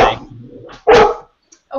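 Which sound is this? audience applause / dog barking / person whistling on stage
dog barking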